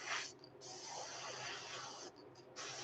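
Airbrush spray of ready-to-use craw paint onto a fishing lure, a steady close hiss broken by two brief pauses as the trigger is released and pressed again.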